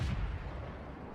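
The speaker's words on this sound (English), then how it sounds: "Unfortunately, this artillery placed a really nice shell on us." A heavy artillery shell slams into a tank in World of Tanks, a deep low boom at the start that rolls into a sustained rumbling decay, with no speech.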